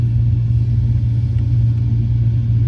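A Cessna 152 engine drones steadily with the throttle pulled back a little, a loud, even low rumble heard from inside the cabin.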